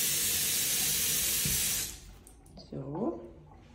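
Broadband hiss of a hotel room sink tap running for nearly two seconds, then it cuts off and a voice speaks briefly.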